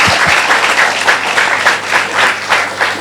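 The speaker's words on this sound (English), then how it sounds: "please join me in giving a big round of applause to our panelists" An audience at a panel discussion claps in a dense, steady burst of applause, close and loud, without talking.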